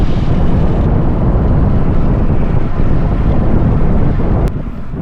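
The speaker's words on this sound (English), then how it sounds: "that wind really gives you a sense of just how quickly we're going and just how windy it is" Loud, roaring wind buffets the microphone continuously while cycling fast on the flat crit track at Mount Stromlo, a rushing broadband gust that eases slightly at the very end.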